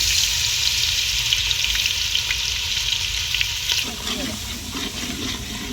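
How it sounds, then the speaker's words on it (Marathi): Ginger garlic paste frying in hot oil for mutton biryani cooked on a wood-fired chulha, a loud, steady hiss that turns to softer bubbling and spatter toward the end. "आलं लसूण पेस्ट टाकत तेल केलं गरम."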